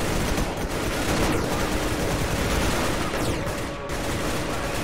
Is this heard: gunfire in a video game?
yes